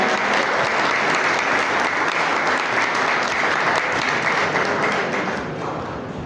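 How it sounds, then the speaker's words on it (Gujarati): Dense, loud applause from a large audience at the annual function of Adarsh Science, Arts and Commerce College, Visnagar, a sustained wash of clapping that fades slightly toward the end. "જોરદાર તાળીઓના ગણગણાટ આપણે વધાવીશું"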